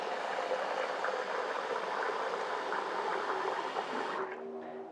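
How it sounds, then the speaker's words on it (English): Water pouring steadily into a bowl of washed beans, mung beans and rice set to soak for kitchari, a continuous close splashing rush that cuts off near the end and leaves a faint hum. "So once again, we'll add water."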